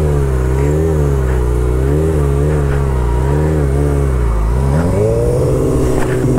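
A drift car's engine revs loudly up close during foot-brake circles in a lot, its drone wavering up and down in a steady rhythmic pattern, then rising sharply near the end.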